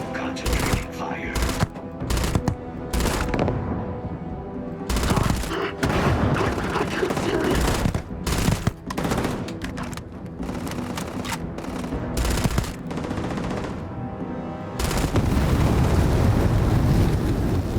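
Rapid bursts of automatic gunfire from a firefight in the space RPG Starfield, dense and loud, with repeated volleys and short gaps and a heavier roar near the end, under occasional talk.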